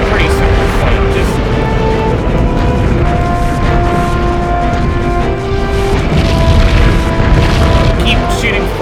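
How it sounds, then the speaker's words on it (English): Frag cannon fire in the Nintendo 64 game Body Harvest, a constant loud rumble of booming explosions blended with droning tones and mechanical noise, while a person talks over it. "keep shooting frag cannon at him and he'll die."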